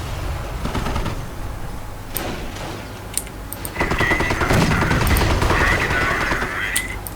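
Bursts of rapid automatic gunfire crackle in the distance and nearer in the video game Company of Heroes, with scattered single shots and a rising mechanical whine partway through.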